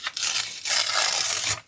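Scissors or a blade cutting through something, a steady rasping, tearing snip that runs for over a second after a brief start, fairly close and alone without talk.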